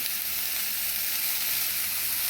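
Onions with fennel seeds frying lightly in oil in a pan, a steady, close hiss of sizzling that runs evenly throughout with no voices.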